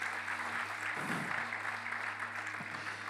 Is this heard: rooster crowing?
no